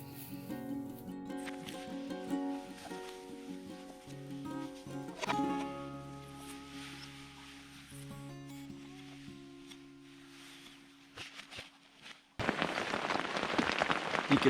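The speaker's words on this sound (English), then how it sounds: "You can probably hear the raindrops on the roof of the tent" Soft patter of raindrops on a tent roof at a campsite in the Ozark National Forest, faint and scattered at first, then swelling into a denser, louder rush near the end.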